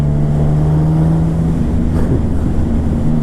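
A Yamaha MT-09 motorcycle engine pulls steadily in sixth gear at around 75 km/h, a continuous loud drone with a low tonal hum and broadband wind rush filling the whole stretch without talk.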